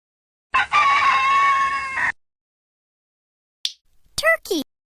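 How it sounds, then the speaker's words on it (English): A rooster gives one loud, drawn-out crow close by, followed after a pause by a few short, sharp calls. "rooster."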